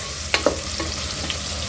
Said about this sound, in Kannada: ಈರುಳ್ಳಿ ಬ್ರೌನ್ ಆಗೋವರೆಗೂ ಫ್ರೈ ಆಗಲಿ